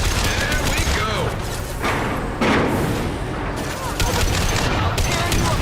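Gunfire in a combat scene from the game Mass Effect Legendary Edition, with a continuous dense wash of shots and blasts while voices shout over it.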